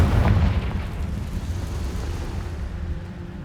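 A Confringo spell explodes in Hogwarts Legacy with a loud, close blast that has a sharp burst at the start and then a rumbling boom. The rumble slowly dies away over a few seconds, with no talk over it.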